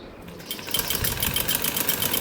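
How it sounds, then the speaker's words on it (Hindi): A sewing machine stitching a salwar, running in a fast, steady mechanical rattle after a brief quieter start, close and alone with no talk. "एक सीधी सिलाई करेंगे, 2 नीचे की साइड 2 सिलाई सीधी कर लेंगे।"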